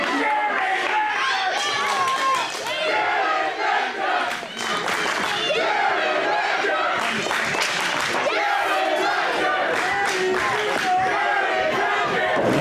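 Fans at a pro wrestling event chant loudly and continuously throughout, a dense roaring crowd with rhythmic shouting swells and a brief dip partway through, with a commentator's voice mixed in.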